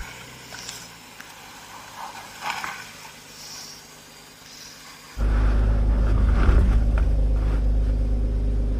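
A BMW X3 M crawls off-road while its driver applies throttle and brakes together, quiet at first with light knocks, then a sudden loud low engine rumble rising and holding to the end.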